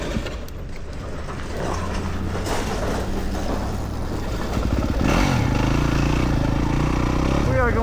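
A 2025 Yamaha WR250F dirt bike rides a Colorado mountain trail, its engine droning steadily and rising in revs partway through, with wind and clattering over rough ground and a voice talking over it.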